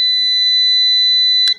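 A loud, steady electronic beep from a multimeter's continuity buzzer, tested across a TV speaker, holds continuously at one high pitch, then cuts off with a brief crackle at the end.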